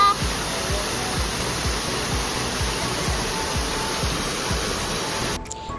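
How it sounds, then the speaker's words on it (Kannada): Manikyadhara waterfall in Chikkamagaluru gives a steady, dense rush of falling water, continuous and fairly loud throughout with no voices. "ಮಾಣಿಕ್ಯದಾರ ಫಾಲ್ಸ್ ಹತ್ರ ಬಂದ್ವಿ."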